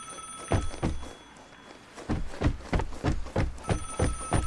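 A telephone rings in the video game Vigor, a landline-style bell heard in bursts of short rapid strikes, loud and fairly close, with a pause between ringing groups.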